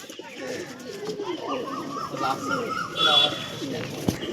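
Punjabi Malbai pigeons coo in soft, repeated throaty calls at a pigeon seller's home, fairly close and quiet, with someone talking over them.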